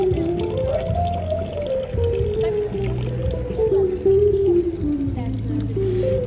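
Water gushing steadily from a fountain into its stone basin in a Rome alley, a continuous rushing splash with someone speaking over it throughout.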